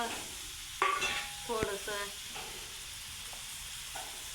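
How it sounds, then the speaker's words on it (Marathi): Garlic, cumin, turmeric and coconut fry in a pan for a village-style bitter gourd dish, giving a steady soft sizzle with a few clinks of stirring early on and a brief word spoken over it. "तर यात टाकलाय लसूण जिरी हळद खोबरं"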